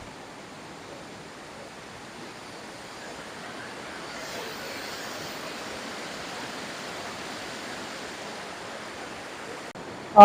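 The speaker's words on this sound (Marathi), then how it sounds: "दोन्ही डोंगराच्या मध्ये हा धबधबा आहे" A forest waterfall between two hills makes a steady, soft broadband rush, constant and fairly distant throughout, with a brief sharp knock at the very end.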